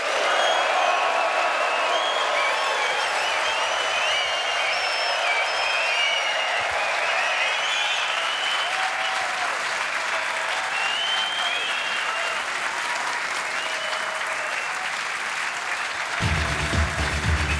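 A sellout crowd at the Masters snooker quarter-final at Alexandra Palace applauds the players in loud, sustained clapping with faint cheers, filling the hall continuously for about sixteen seconds before fading as a voice begins.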